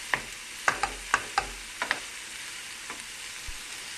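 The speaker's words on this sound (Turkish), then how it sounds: "Biber, soğan üçünü güzelce kavuracağım." 250 grams of ground meat sautéing with onion and pepper in a pan, a low sizzle broken by several sharp scraping stirs of a spoon, near and with no voices.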